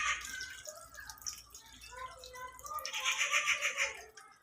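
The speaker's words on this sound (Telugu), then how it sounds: "నేను ఈ గ్లాసుడ్ వాటర్ వేస్తానండి" A glass of water splashes into mutton curry with drumstick in a pan, a brief gurgling pour that swells near the end while a voice speaks over it.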